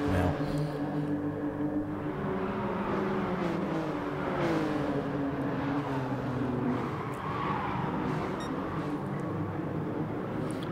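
Toyota GR Yaris race cars on the final lap of a race, engines droning loud and continuous as a close pack runs together, with tire noise and shifting engine pitch throughout.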